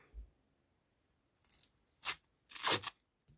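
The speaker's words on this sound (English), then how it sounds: "Cut 6 3-inch pieces of Velcro and set 2 aside and peel open the other 4." Velcro hook-and-loop strips, cut into short three-inch pieces for sewing a travel organiser, being peeled apart in a few separate ripping bursts, the last one longest and loudest, with quiet gaps between.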